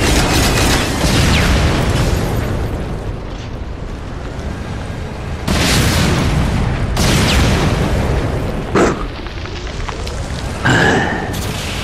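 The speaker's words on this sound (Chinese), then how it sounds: "爆炸死了。" Loud, rumbling explosions and blasts from the online shooter game Ghost Recon Online, a sustained roar with several sharp bursts.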